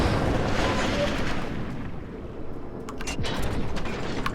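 Warship guns fire in World of Warships aboard a Phoenix-class cruiser, heavy rumbling booms and mechanical clatter layered in a dense, loud battle din with no clear pauses.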